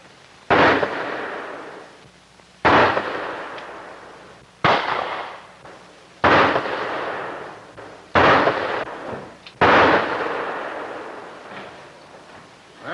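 Six sharp pistol shots fired at target practice, evenly spaced about two seconds apart, each a loud close crack with a short decaying tail and no talk in between.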